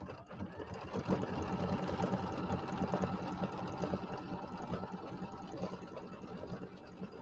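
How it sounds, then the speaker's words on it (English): An embroidery machine stitches a decorative pattern on a quilt block, giving a steady, dense mechanical whir with a fast rapid-fire needle rhythm, close up and constant throughout. "now we're going to do the little decorative stitch for this one"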